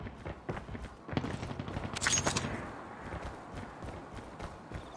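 Marksman rifle fire in a multiplayer shooter video game: a quick run of sharp shots, with a dense burst around the middle, set among game effects and busy background sound.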